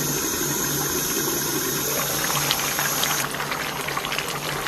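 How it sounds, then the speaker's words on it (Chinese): Pork belly braising in a covered pot over low heat with bay leaves, salt and brown sugar, a steady close bubbling simmer that continues throughout with small liquid pops and no talk. "接下来盖盖，咱们小火给它炖上40分钟。"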